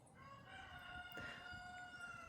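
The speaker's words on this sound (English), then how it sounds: "I got chickens and a rooster." A rooster crows with long drawn-out calls, and chickens cluck faintly around it on a rural homestead, heard at a moderate distance with no talking.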